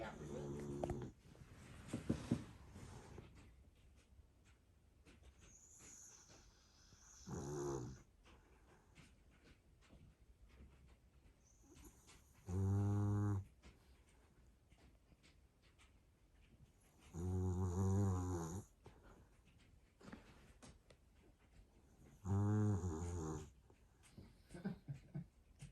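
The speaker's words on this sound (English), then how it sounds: "Sonny snores so loud at night, I can hear her over your CPAP." Sonny, a dog, snores loudly in drawn-out, buzzing breaths that repeat roughly every five seconds over a quiet, low background.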